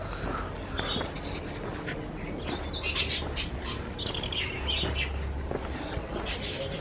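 Small birds chirp and tweet in scattered, faint bursts at a garden centre, set against a steady background hum with no talking.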